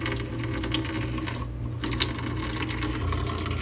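A countertop reverse osmosis system in an RV dispenses room-temperature drinking water in a steady, continuous stream of running water that stays even and close throughout.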